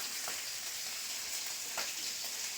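Fish frying in hot oil, a steady close sizzle and crackle that keeps going throughout with small bubbling pops, no voices.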